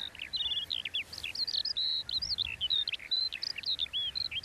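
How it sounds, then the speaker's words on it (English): A skylark sings its rapid, continuous song of chirping, warbling syllables, heard clearly and alone over faint background hiss. "They hover in the sky, and then they parachute down while singing this incredible song."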